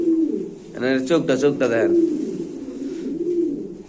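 Pigeons at a market stall selling Mundian and racer pigeons coo in a low, steady murmur beneath a man's close speech, the soft throaty calls carrying on quietly after he stops.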